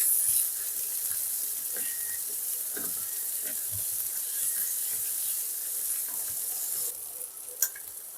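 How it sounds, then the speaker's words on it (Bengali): Four crushed whole chillies drop into hot oil for a fish curry, giving a steady, close, even sizzling hiss that runs throughout, with a few faint clicks and no voices. "এরপর এতে 4টে গোটা লঙ্কা, যেটাকে আমি ছেঁচে রেখেছিলাম, সেটাকেও দিয়ে দিলাম।"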